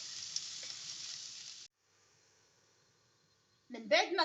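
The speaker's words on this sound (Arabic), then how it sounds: "غادي نخلط الكل" Shrimp and celery sizzle loudly in a pan for under two seconds, then cut to near silence; a voice speaks briefly at the end.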